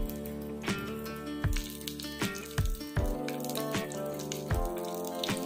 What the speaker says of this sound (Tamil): எண்ணெய் சூடானதும் கத்திரிக்காய் இதில் சேர்த்துக்கலாங்க